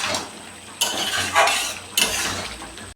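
Cornflour water stirred into a hot pan: steady hiss of cooking with loud scraping sweeps of a spoon across the pan every second or so, a couple of sharp clanks against the metal.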